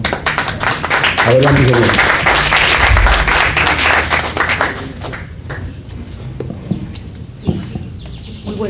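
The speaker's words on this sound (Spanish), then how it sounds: "¿Para qué pido un aplauso?" An audience at a Lima forestry engineering chapter event of Peru's engineers' association claps loudly and densely for about five seconds. The applause then dies away and a voice begins speaking.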